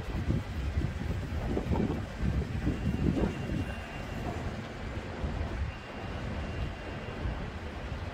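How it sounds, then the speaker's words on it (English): Wind gusts buffet the microphone at a Blackpool construction site during a panel lift, a steady low rumbling roar that swells and eases across the whole stretch. "There is a wind, not serious, but there is a wind."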